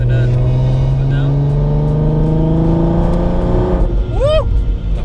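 A supercharged 490 bhp Volkswagen Golf accelerates hard, its engine note rising steadily as the revs climb, loud from inside the car, then a quick upshift with a whining rise near the end; people talk over it.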